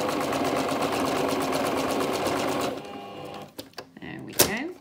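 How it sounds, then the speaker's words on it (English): A sewing machine runs steadily stitching a straight seam along the top of a fabric glasses case, a fast even whirring that stops partway, followed by a few small clicks and handling noises. "we're going to sew a straight line along the top"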